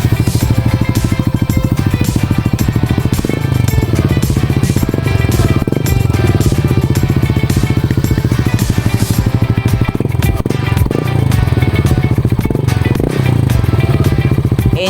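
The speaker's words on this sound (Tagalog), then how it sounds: "sound check nga pala natin tong tunog ng JBT version 3 na pipe" A motorcycle fitted with an adjustable JBT version 3 exhaust pipe roars loudly and close, its deep, continuous engine note rising and falling through repeated revs.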